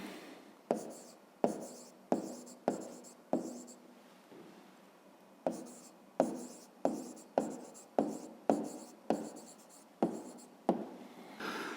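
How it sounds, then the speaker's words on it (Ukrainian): Pen strokes of someone handwriting an answer to a fifth-grade maths exercise, close and crisp, in two bursts of about six rhythmic scratches each, separated by a short pause. "Пишемо відповідь."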